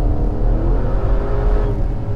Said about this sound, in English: before you start really pushing this twin turbo V8, and I tell you what, you can feel every bit of that 590-ish horsepower